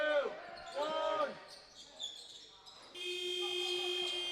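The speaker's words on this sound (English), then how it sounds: "Cortez Edwards had to put a shot up on the buzzer from a long way out to hit the front rim" A game-end buzzer sounds in a British Basketball League championship game between the Eagles and the Worcester Wolves. It is one long steady tone after squeaking shoes and crowd noise in an arena.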